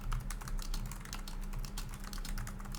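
Rapid, continuous computer keyboard typing during a typing test, with dense overlapping keystrokes clattering close and steady throughout, no speech.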